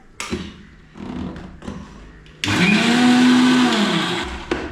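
A mixer grinder churning sautéed masala with a little water for Kerala-style sardine fish curry: a few short bursts and thumps, then a loud steady whirring spin close by.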